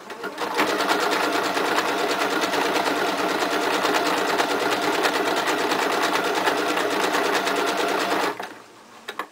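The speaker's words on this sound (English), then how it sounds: "If you don't have that on your sewing machine, that's fine." A sewing machine runs in one continuous burst for about eight seconds, stitching a leg line on fabric for a chocolate bunny, its needle chattering rapidly and evenly before stopping with a few small clicks.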